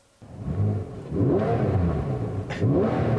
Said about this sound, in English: the engine revs so quickly